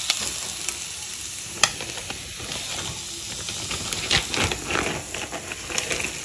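Vegetables and corn stir-frying in a pan, a steady close sizzle and hiss with occasional stirring scrapes and clatter, no talking.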